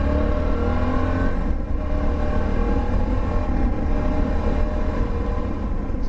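A Suzuki V-Strom motorcycle cruises along a road on a commute, its engine drone and wind rush forming a steady, loud roar throughout with no talking.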